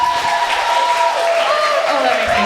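An audience at a comedy show claps and cheers in a short burst of applause. The clapping is fairly loud and mixed with crowd noise and a bit of voice.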